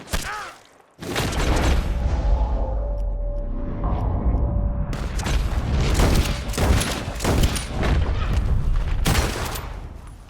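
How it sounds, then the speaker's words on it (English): Heavy gunfire erupts after a brief silence in Red Dead Redemption 2, rapid bursts of shots and booms rattling continuously and loudly, close and chaotic. "Gunshots are coming."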